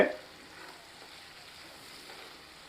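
Manapatti chicken chukka fries quietly in a pan as it is stirred, a soft steady sizzle with faint scraping after a brief louder start.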